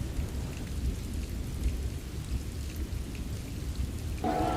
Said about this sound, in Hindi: बारिश रुकने का नाम ही नहीं ले रही है और हम यहाँ शेड ढूंढकर यहाँ पर खड़े हो गए हैं।